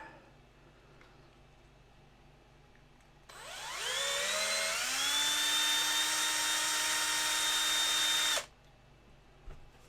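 A small power drill boring a pilot hole into a resin model kit part, whirring up quickly to a steady high whine for about five seconds, then stopping abruptly into quiet room tone.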